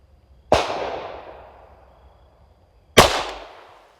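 Two sharp gunshots from a Ruger LC Carbine in 5.7x28mm, fired several seconds apart outdoors, each loud crack trailing off into a long fading echo.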